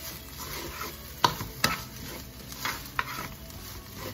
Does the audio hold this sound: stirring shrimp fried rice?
yes